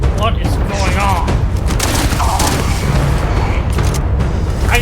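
Shotgun blasts and booming fire in Starfield during a dense firefight, loud and continuous with heavy low rumble and overlapping shots, with voices talking throughout.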